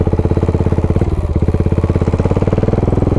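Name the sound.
single-cylinder motorcycle engine riding off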